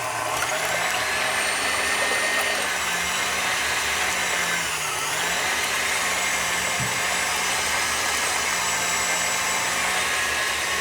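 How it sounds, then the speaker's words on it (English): An electric mixer beats egg whites with sugar for meringue, giving a steady, loud, continuous whir with a slight wavering pitch throughout, no voices over it. "You can beat your eggs, of course, by hand, but here, with the help of the machine, it makes it easier."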